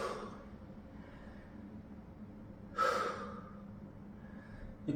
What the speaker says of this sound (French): On souffle.